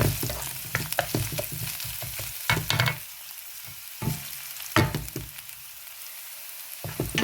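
Green and dried chilies sauté in a pan, bursts of crackling sizzle and repeated scraping stirs up close, fading between strokes, with no voices.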